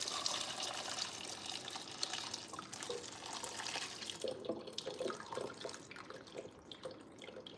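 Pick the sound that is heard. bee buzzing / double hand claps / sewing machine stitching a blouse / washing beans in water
washing beans in water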